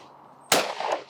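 A single 20-bore shotgun fires one sharp, loud report at clay shooting, followed by a short decaying echo, with quiet ambience before the shot.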